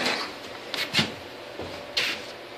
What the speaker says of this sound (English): You close the door up.